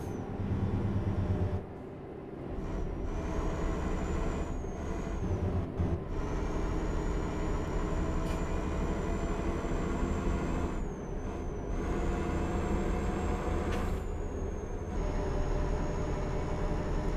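A heavy truck rolls on in Euro Truck Simulator 2 under a constant engine hum and high whine, with short air-brake hisses cutting in now and then, no talking.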